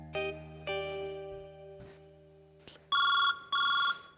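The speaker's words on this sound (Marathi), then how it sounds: "रिंग वाजते, रिंग वाजते." A telephone rings on a comedy sketch stage in two loud, steady electronic bursts near the end, after softer sustained musical tones.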